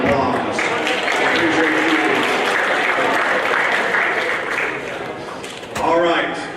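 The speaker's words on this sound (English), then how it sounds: "Give them a round of applause." Sustained applause from an audience at a school 8th grade awards program, loud and steady for several seconds before tapering slightly, with a brief swell near the end.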